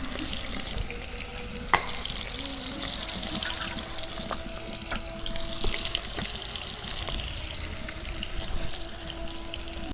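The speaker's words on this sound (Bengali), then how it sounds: "তেল আমি পুরা গরম করে আমি মাছগুলো ভাজা নিতেছি" Pieces of fresh rohu fish fry in fully heated oil in a village kitchen, a steady close sizzle and crackle with occasional sharp pops and utensil taps.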